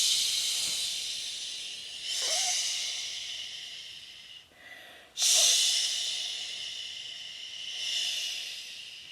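Voices imitate gusting wind with breathy shh sounds during a group warm-up, swelling and fading in several long waves with a short pause midway.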